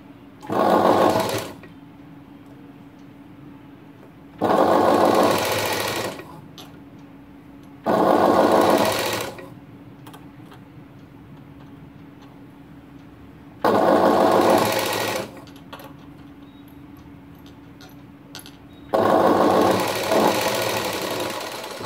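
Electric sewing machine running in five separate bursts of about two seconds each, stitching the folded piping strip on a blouse, with quiet pauses between the runs and no talking.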